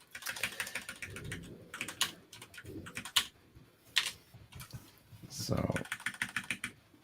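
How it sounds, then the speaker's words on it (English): Keys clatter on a computer keyboard in quick, uneven bursts during a live C# console programming session, with a person talking over parts of the typing. "so you can all see what we're typing"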